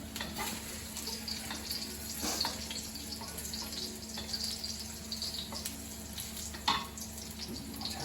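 Mushrooms partially cook in a pan on low heat, a faint, steady sizzle and hiss running throughout with a few soft clicks of utensils, no voices.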